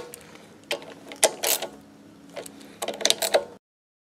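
A ratchet tightening bolts on a Honda engine carburetor, with short bursts of clicking pawl action separated by pauses, close and moderately loud.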